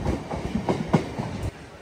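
A MEMU train passes on an Indian railway line, its wheels giving a close, loud, rhythmic clickety-clack over rail joints that drops off sharply near the end.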